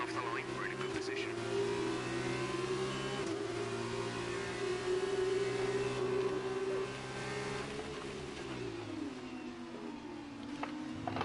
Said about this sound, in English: It just sounds like a V10 engine?